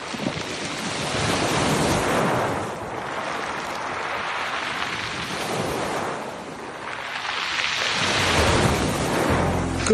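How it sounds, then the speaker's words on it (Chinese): Sea waves wash over a pebble beach on the French coast, surging and receding in broad, rolling swells with wind rushing across the microphone throughout. "听着这些海水冲刷鹅卵石的声音"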